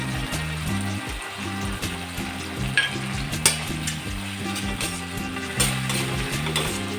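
Green chillies frying in a pan as curd is stirred in, a strong continuous sizzle with rhythmic scraping and knocking of the spoon against the pan, close and alone.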